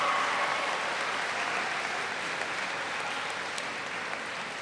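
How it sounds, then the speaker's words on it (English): Students and audience applaud at a school convocation, a steady, moderately distant wash of clapping that holds evenly and fades slightly toward the end. "So give yourselves a nice round of applause."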